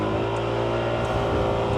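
A motorcycle engine accelerates up to speed, giving a close, continuous droning roar with a steady pitch and no voices.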